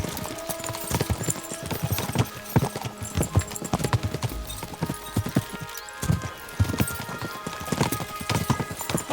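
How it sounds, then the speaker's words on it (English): Horses gallop in the medieval video game Kingdom Come: Deliverance II, with loud rapid hoofbeats that keep a steady rhythm. A brief neigh rises over the hooves, and no one speaks. "We should spur the horses on!"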